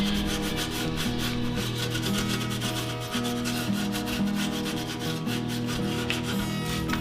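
Sticky food residue is scrubbed off a gas stove with a continuous, rhythmic rubbing and scouring, close and fairly loud, with no talking.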